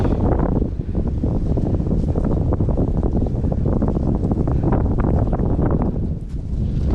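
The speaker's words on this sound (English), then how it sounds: "That wind though." Strong gusts of wind roar across a pine-covered rocky hill in Black Rock Forest, New York, a loud continuous buffeting rush battering the microphone with rumbling turbulence that barely lets up.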